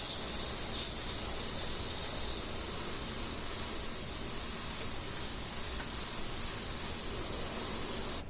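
Airbrush spraying paint over a finished miniature: a steady, soft airy hiss that holds without a break for the whole stretch and stops sharply at the end.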